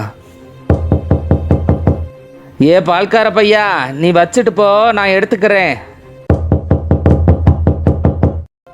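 Knocking on a door comes in two long bursts of rapid, loud, hard raps with a short pause between, while someone talks loudly between the bursts.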